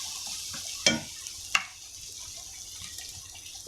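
Ginger garlic paste frying in a karahi for chicken tikka masala: a soft continuous sizzle, broken by two sharp spatula scrapes or knocks against the pan and a few lighter taps, close and fairly quiet.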